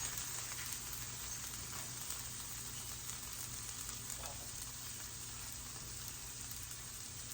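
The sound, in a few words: peppers and onions frying on a griddle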